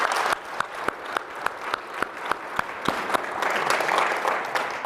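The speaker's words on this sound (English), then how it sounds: "let's give a round of applause" Audience applause at a tech conference session on Kubernetes GPU clusters, a steady crowd clapping with scattered sharper claps standing out, swelling slightly toward the end, with no talk over it.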